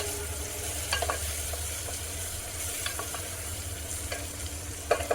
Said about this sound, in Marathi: आता सगळं परतून घेऊया कारण सगळे हे मसाले तेलामध्ये छान परतले गेले